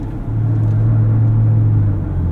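A 2024 Ford Ranger Raptor pickup in sport suspension mode cruises along a street, its engine a steady, loud low drone with continuous road rumble and no voices.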